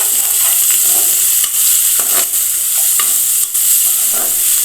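Avakaya mango pickle fried rice is stirred in a pan, each spoon stroke giving a loud, close scrape over a continuous sizzle, repeated in an uneven rhythm with no talking.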